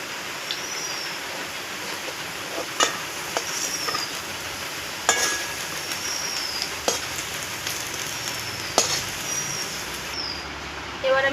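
Potatoes fry in hot oil in a kadai, a soft continuous sizzle under repeated sharp scrapes and clinks of a spatula stirring and lifting them, with occasional whistle-like tones in the background.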